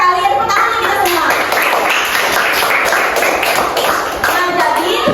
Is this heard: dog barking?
no